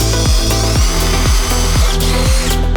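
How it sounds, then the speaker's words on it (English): A power drill bores mounting holes in metal wing end plates for a 150cc turbo go-kart, a loud steady whine with repeated pitch drops as the bit bites, close and alone. "Time to drill some holes."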